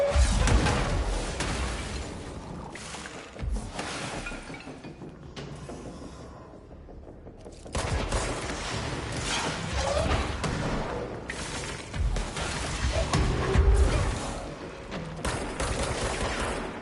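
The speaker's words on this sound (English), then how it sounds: "Can you guys shoot grenades at someone else?" Enemies in Control fire grenades and guns in a dense, rolling barrage of shots and blasts, with a brief quieter lull before the heavy fire picks up again.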